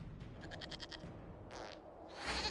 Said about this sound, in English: we discovered this man attacking the building with a